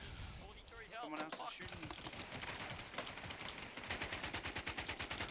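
Rapid video game gunfire rattles in quick bursts, steady rhythmic automatic shots running through most of the stretch, fairly dense and close, with a voice speaking over the start.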